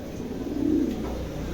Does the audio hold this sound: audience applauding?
no